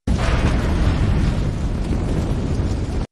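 A loud, sustained roaring blast fills the whole clip with a broad rumble that stays strong before cutting off abruptly.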